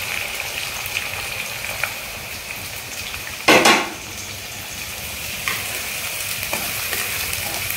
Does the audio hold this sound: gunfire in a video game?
no